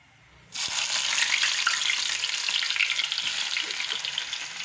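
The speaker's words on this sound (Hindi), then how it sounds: "सबसे पहले हम डालेंगे प्याज।" Chopped onion dropped into hot oil for a kadhi tempering with whole chillies, curry leaves and cumin, bursting into a loud, steady sizzle that continues close up without a pause.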